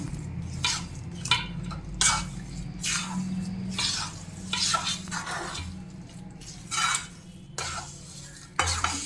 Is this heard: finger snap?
no